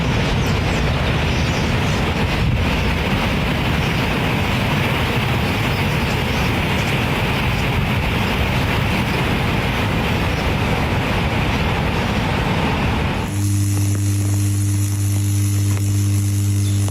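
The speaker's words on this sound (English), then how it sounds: "Everything happened within seconds when the tram derailed and slammed into a building" A derailed tram rumbles with heavy, continuous grinding roar for several seconds before slamming into a building, then a loud steady tone and hum take over.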